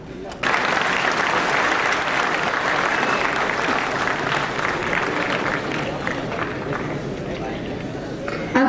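An audience at an award ceremony applauds in a dense, steady roar of clapping that carries on unbroken for several seconds, loud and full, slowly thinning toward the end.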